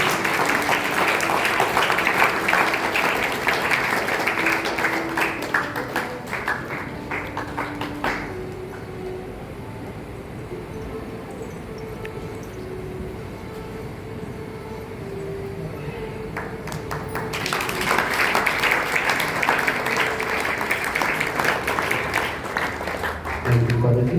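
A church congregation at a novena applauds in thanks, with loud sustained clapping that fades to a quieter stretch with murmuring, then swells again into strong applause.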